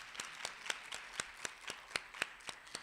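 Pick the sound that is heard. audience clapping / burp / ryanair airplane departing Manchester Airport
audience clapping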